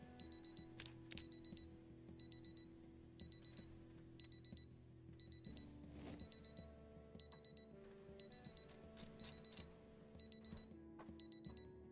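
An alarm clock in Project Zomboid beeps continuously in repeating clusters of quick electronic tones, layered over steady game background sounds at a low level throughout.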